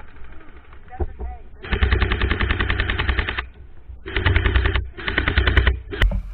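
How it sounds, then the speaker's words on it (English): Airsoft guns rapidly firing BBs on a field, dense bursts of automatic rattling in several long strings with brief gaps, loud and close, with a few scattered single shots. "Spike, I ran out of BBs"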